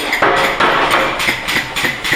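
A Massey 2 cwt inslide power hammer, rebushed and resized, runs in a steady rhythm, its repeated blows loud and close with a broad metallic clatter and no talk.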